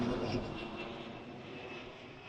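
An airplane at Washington Reagan National Airport makes a faint, distant, steady engine roar that slowly eases in loudness.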